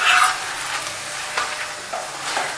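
A paratha roasts on a hot pan without ghee on its back, pressed and turned with a cloth, giving a steady dry sizzle and scraping with small bursts, close and moderately loud.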